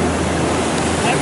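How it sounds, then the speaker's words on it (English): Beach surf rushes loud and close, a dense roar of breaking ocean waves mixed with wind buffeting the microphone. "Some gnarly waves"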